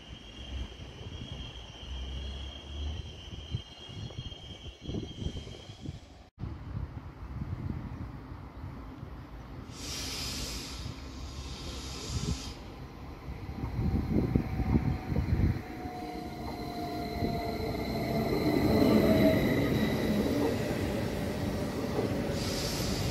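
A train pulls into Traunstein railway station in Bavaria, its rumble building over about twenty seconds amid platform ambience, with a brief high wheel squeal and a rising, fairly close roar toward the end.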